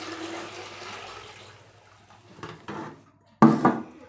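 Water tipped out of a container during a single-phase submersible pump control panel test, splashing in a loud, brief gush near the end after a quieter stretch with a couple of faint knocks.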